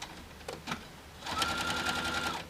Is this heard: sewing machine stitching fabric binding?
yes